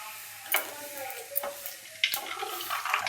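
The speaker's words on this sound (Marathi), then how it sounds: "तळून झालं तर आपण पापड तळून घेऊया आता." Homemade papad frying in hot oil gives a steady soft sizzle with light crackles and a few sharper clinks and scrapes of a utensil, close up, at home.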